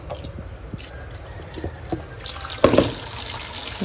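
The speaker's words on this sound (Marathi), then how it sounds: "त्याला पाण्याखाली ठेवायला लागेल नल चालू करू" A kitchen tap runs water over a large fish in a sink, a soft continuous trickle with small splashes and a brief louder splash near the end, close by and without talk.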